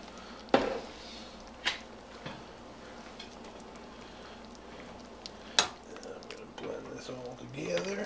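A spoon clinks against a cooking pot while thyme and marjoram are stirred into homemade stew, with a few sharp metallic knocks over a soft bubbling background.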